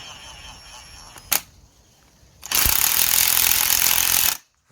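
A power wrench drives a 19mm nut on a van's front shock absorber, with a short sharp burst and then a loud sustained rattling hammer that stops abruptly, over a quiet background.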